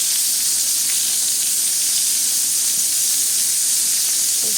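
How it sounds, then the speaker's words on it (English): Beef sizzling on a Korean BBQ grill, a loud, close, unbroken hiss of frying that holds steady for the whole stretch with no voices. "We'll add more beef"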